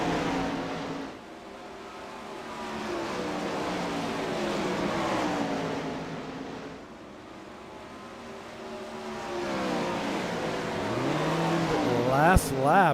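410 sprint cars race at Lanier, their engines rising and falling in sweeping revving whines as they hold the throttle through the turns, moderately loud and continuous, with a short sharp click near the end.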